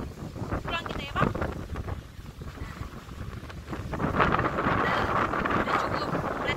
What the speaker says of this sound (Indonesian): karena anginnya terlalu kencang, semakin kencang.